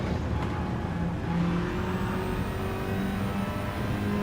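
Simulated race car engine in an esports racing game, held at a steady full-throttle drone with a rising pitch as the driver powers out of the last corner, loud and continuous with no talk over it.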